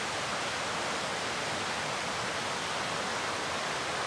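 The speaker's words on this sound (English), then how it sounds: "as we go down to this creek or river" Creek on the Fiery Gizzard Trail flowing steadily nearby, a dense, even rush of water with no pauses or voices.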